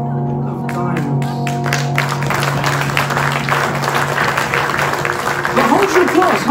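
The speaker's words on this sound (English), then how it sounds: "But hold your applause" Applause from a live audience at a magic and illusion show, broad and steady throughout, with tonal hum and some voices mixed in early on.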